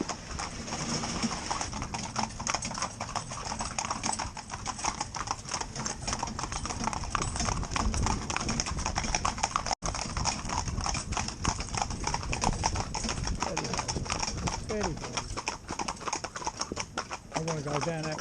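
Hooves of a mixed four-in-hand of young, green ponies clip-clop in a quick, continuous rhythm on a hard road, close and steady throughout, with people talking over them.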